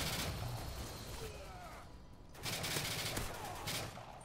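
A G18 pistol in a video game fires in rapid automatic bursts, dense crackling volleys that rise and fall, with a player talking over the shooting.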